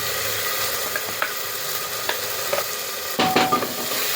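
Onion, garlic, ginger, cumin and pepper get stirred in a sizzling pan, with continuous frying hiss and scattered scraping strokes from a spoon, a few sharper clatters toward the end.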